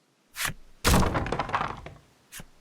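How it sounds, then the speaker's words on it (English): A wooden box tumbles and thuds onto the ground in a grotto in a video game: one hit, a louder clattering crash that rattles briefly, then a final thump. "The sound of a wooden box tumbling to the ground rips through the grotto."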